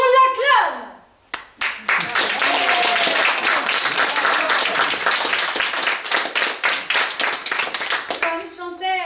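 Audience applause at a feminist tribute event, a dense burst of clapping that starts after a short pause, holds steady for several seconds and then thins into fewer claps as a voice returns at the end.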